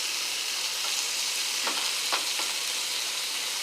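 A burger patty fries in bacon grease in a pan, a steady close hiss of sizzling with a few brief scrapes of stirring or turning, alone without voices.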